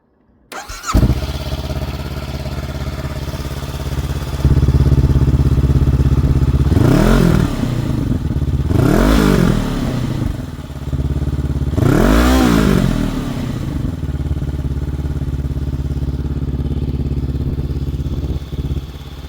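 A motorcycle with a 300mm chrome oval Black Widow exhaust, baffle in, starts and idles steadily, then three sharp throttle blips rise and fall, revving up the exhaust before it settles back to idle.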